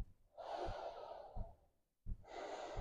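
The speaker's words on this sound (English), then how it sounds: "Inhale." Deep inhaling breaths during a trauma release yoga session, two long drawn-in airy breaths with a short gap between them, close and fairly soft.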